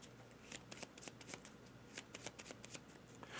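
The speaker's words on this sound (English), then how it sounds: "So we're going to shuffle these up." A deck of cards for the railway board game 1862 being shuffled by hand, quick riffling bursts repeating in an uneven rhythm, close and quiet.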